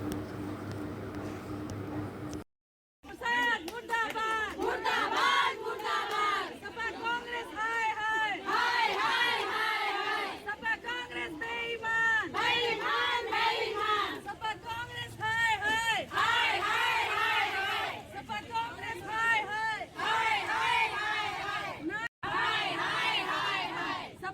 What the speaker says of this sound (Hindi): प्रदर्शन के दौरान समाजवादी पार्टी और कांग्रेस के खिलाफ जमकर नारेबाजी हुई